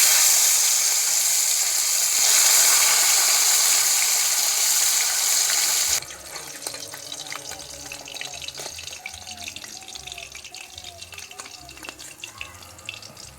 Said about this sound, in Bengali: তেল গরম হয়ে গেছে, এবার কই মাছগুলোকে ভেজে নেব।